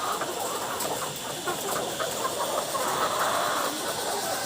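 Layer chickens on a farm cluck and murmur in a steady flock din, many birds at once filling the air at moderate loudness with no one speaking.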